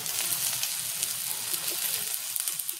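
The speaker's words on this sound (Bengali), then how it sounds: "বেগুনগুলো ভাজা ভাজা হচ্ছে," Eggplant (brinjal) frying in hot oil, a close, steady bright sizzle with small crackling pops throughout.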